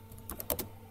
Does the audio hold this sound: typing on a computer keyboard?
yes